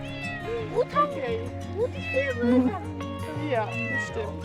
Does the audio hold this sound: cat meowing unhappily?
yes